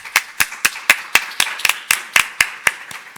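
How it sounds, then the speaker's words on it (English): Slow, evenly spaced hand claps ring out about every quarter second, a sparse, close rhythm of single claps acknowledging young scientist speakers at a forum. "give a huge applause to the work they've done."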